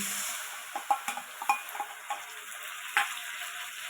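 Spices dropped one by one into onions frying in a pan for a Bengali prawn curry, with a steady soft sizzle and a run of light spoon taps and scrapes as they are stirred in, close and moderately quiet.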